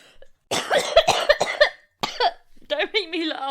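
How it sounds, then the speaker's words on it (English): A person coughs in a cluster of harsh, close bursts. After a short pause, a voice speaks. "That was just my coughing."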